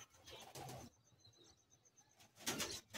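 Old bloodline Madrasi pigeons from Bagnan give soft, faint coos in short bursts, with quiet gaps and a light chirp between them.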